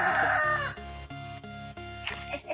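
A rooster crows near a home, a drawn-out harmonic call that starts loud and trails off, followed by shorter, quieter clucking and crowing notes with faint background sounds.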